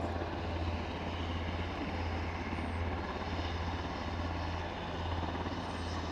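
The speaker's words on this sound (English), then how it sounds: "We do have an aircraft on final approach." An aircraft on final approach to Aberdeen airport drones with a steady low engine hum, distant and constant, no voices.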